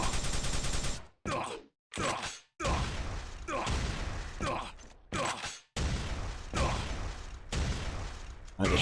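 Rocket launcher shots and explosions in Quake 3 DeFRaG, a series of loud, abrupt blasts separated by short gaps of near silence, each with a rushing whoosh and decaying tail, no speech.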